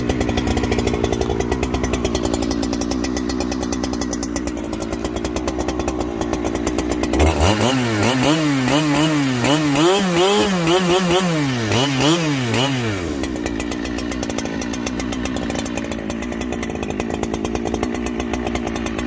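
A big chainsaw cuts into barkless oak, its loud buzzing engine bogging and revving in rhythmic waves through the cut, with high idle running before and after.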